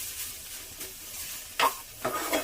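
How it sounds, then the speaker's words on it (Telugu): Beetroot stir-fried until dry gives a soft, low sizzle with a few louder scraping bursts as it is stirred in the pan near the end. "ఇది ఇంకా ఇలా పూర్తిగానే పొడిగా వచ్చే వరకు మనం ఫ్రై చేసుకుంటే చాలా బాగుంటుంది"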